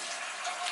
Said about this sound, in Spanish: me está preparando una bolsita de agua caliente porque paso mucho frío por la noche